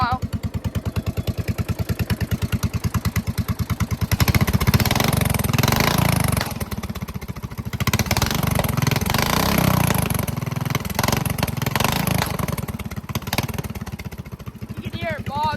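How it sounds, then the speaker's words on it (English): Racing lawn mower engine fitted with a Chinese carburetor idles steadily while warming up, a close, loud, rhythmic putter that roughens and swells partway through, with a person talking over it. "Chinese carb on it, so it likes to warm up for a while."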